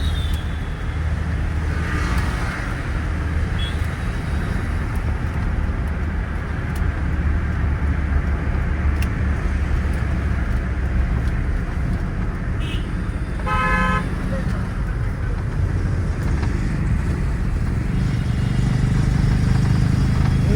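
A car cruises in fifth gear through city traffic with a steady road and engine hum; a short horn toot sounds around the middle amid the surrounding traffic.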